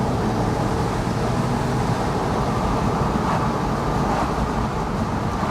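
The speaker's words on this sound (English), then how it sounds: "All the road noise, all the noise from the engine, etc." Cabin drone from a Porsche 911 Carrera 4S (997.2) with a 3.8-litre flat-six boxer engine, running around 4,000 RPM on the road: a loud, continuous roar of engine and tyre noise, steady throughout with no talking.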